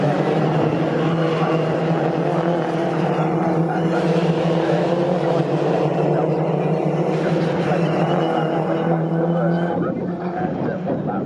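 Mini JCW race cars drive down the Bentley straight at Snetterton circuit, a steady engine drone running throughout beneath continuous commentary.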